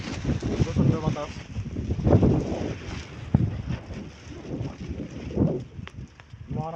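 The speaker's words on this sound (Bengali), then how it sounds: "প্রচন্ড বাতাস," Strong wind buffets a boat on a river, a rough gusting roar of wind against the microphone with water sounds beneath, while people talk over it.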